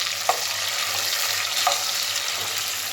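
Tomatoes hit browned onions in a pan for chicken biryani, a loud continuous sizzle with a few close spoon taps and stirs.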